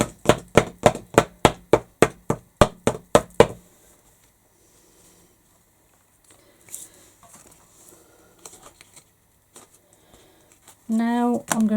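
Excess glitter is tapped off a sparkly craft piece made with tumble dryer sheets: about ten quick, sharp, evenly spaced knocks at close range. Quiet handling follows, and a voice begins at the very end.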